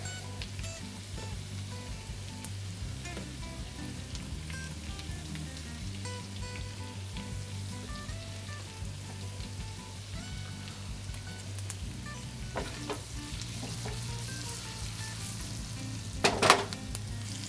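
Raw shrimp drop into a hot pan with garlic for Hawaiian garlic shrimp and sizzle steadily at moderate level, with a few light clinks near the end and no talking.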